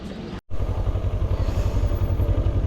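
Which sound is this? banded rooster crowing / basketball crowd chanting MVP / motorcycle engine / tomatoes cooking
motorcycle engine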